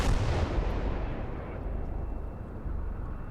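A T-35 tank fires its gun in the World War II game Call to Arms: Gates of Hell, and a heavy, booming blast rumbles and fades through a long low tail. The sound is dense, loud and continuous.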